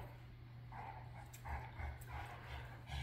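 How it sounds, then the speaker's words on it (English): Two young dogs scrapping and playing, giving soft yips, whimpers and short muffled barks in irregular bursts over a low steady hum, faint and fairly close. "watch two dogs scrap it out"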